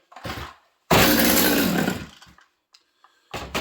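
A Stihl MS200T chainsaw runs rough and bogs down, roaring loudly in uneven bursts that cut out to near silence between them.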